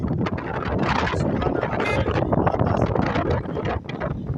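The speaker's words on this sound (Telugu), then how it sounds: "చల్లటి గాలి వీస్తున్నది" Steady wind buffets the microphone with a constant, rough rushing roar that barely lets up, loud and close throughout.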